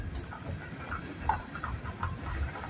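A freight train rolls past at moderate distance, a low continuous rumble with faint irregular clacks and scrapes from the wheels, steady throughout with no talk.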